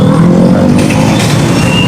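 A motorcycle engine runs steadily at close range with a loud, continuous drone and no break, on a street during a traffic stop over a faked licence plate.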